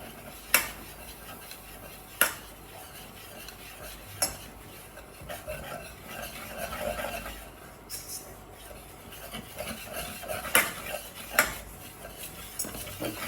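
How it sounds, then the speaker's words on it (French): Flour is worked into a roux in a pan with a metal utensil. Soft scraping and stirring are broken by a few sharp clinks of utensil on pan, with a faint sizzle underneath and no talking. "Et là, on va y rajouter notre farine. On va bien mélanger."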